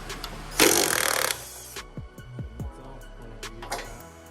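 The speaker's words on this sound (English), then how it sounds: "Grab the shaft, remove the nylock nut." A nylock nut comes off the shaft of a removed Audi S5 shock in a garage, heard as a loud, brief whirring tool burst followed by several small metallic clinks and taps.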